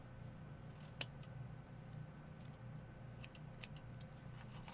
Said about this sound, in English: Now if you don't like your feather this long, you can cut that.